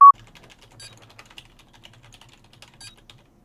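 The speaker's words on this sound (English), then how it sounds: "I was typing on Discord," Soft clicking of keys typed on a computer keyboard in a Discord chat, with faint, scattered keystrokes heard close at low volume and no one speaking.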